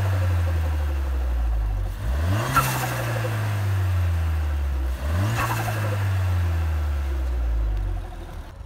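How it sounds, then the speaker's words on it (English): A Ford Fiesta ST engine with a dual-port Turbosmart dump valve revs up twice, each rise ending in a sharp whooshing release of the valve as the revs drop back, loud and close, with idle between the revs. "I've now got a turbo smart dump valve fitted on there."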